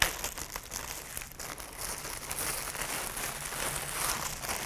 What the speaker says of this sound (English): We'll put it in a plastic bag.